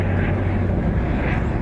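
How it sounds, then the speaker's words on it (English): A helicopter circling overhead gives off a steady, loud rumbling drone with a faint swell in the middle, with no clear speech over it. "I mean, it must be the same helicopter,"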